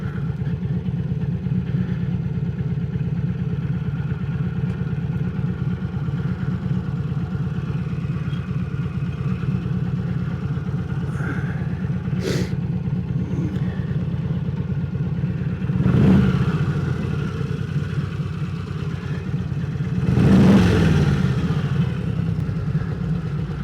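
Harley-Davidson Panhead motorcycle engine running steadily while riding in near-freezing cold, a continuous low throbbing drone close by, with two brief louder swells of clatter near the end.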